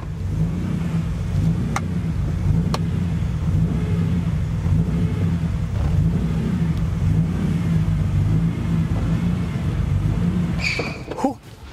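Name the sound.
BMW E30 M3 with S54 engine being driven back and forth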